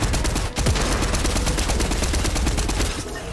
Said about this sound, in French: Ah, j'entends des coups de tir.